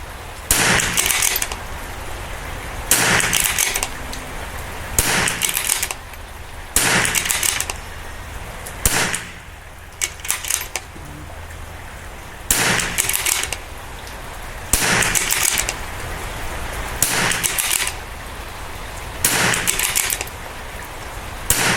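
.22LR rifle shots fired at an outdoor range during a match, emptying a final magazine: sharp cracks in spaced bursts about every two to three seconds, loud and close, with no talking.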